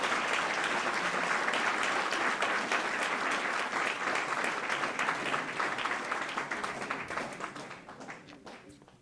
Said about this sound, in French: on peut vraiment l'applaudir pour ce travail.